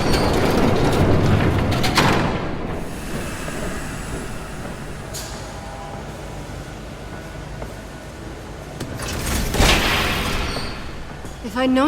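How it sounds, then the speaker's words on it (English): A train approaches in the video game Batman: The Telltale Series, a loud rumbling rail roar building with a metallic clatter, fading to a steadier rush before swelling again near the end. "There's a train coming."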